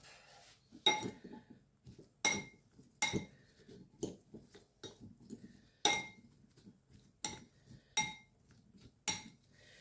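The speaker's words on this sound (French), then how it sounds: "Je vais prendre une fourchette, une cuillère pour remuer." Fork and spoon stirring parsnip pieces in a bowl, giving sharp metallic clinks against the dish in irregular bursts, with softer scraping between them and no voice.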